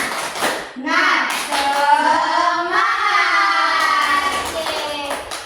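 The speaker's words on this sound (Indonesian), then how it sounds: "1, 2, 3, tepuk semangat." Students in a classroom perform a rhythmic spirit clap, patterned claps mixed with loud chanting children's voices in a sing-song cadence, close and lively throughout.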